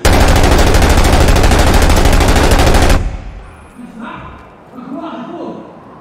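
Rapid automatic airsoft gunfire rattles loudly and continuously for about three seconds during a night skirmish, then stops, leaving faint movement, muffled voices and background shuffling.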